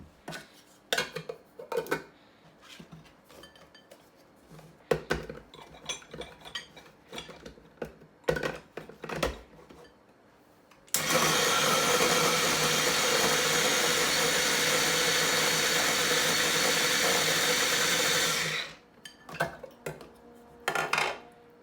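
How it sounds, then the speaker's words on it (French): Boiled tomato, eggplant, chili and garlic are crushed with oil in a dish: scattered scraping and clinking of utensils, then a loud steady whirring blend for about seven seconds, followed by more intermittent scrapes. "Donc je vais rajouter un peu d'huile et écraser."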